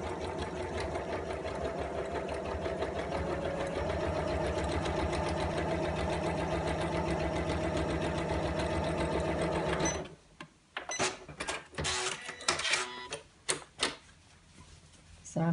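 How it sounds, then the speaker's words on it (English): A sewing machine stitches a lined appliqué tote bag in one long, steady mechanical whir for about ten seconds, close and clear, then stops and gives way to sparse clicks and handling noises. "And sew all the way down."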